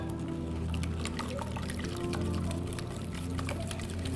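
Liquid is drizzled into chocolate bourbon pecan pie filling while it is whisked briskly, giving a steady trickling and stirring sound that runs at an even level throughout.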